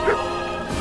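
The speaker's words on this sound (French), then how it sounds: "Bah en fait Kevin c'est le chien là." A cartoon dog in the Overcooked cooking video game lets out a single short, bright bark near the start, then a quiet game backdrop continues.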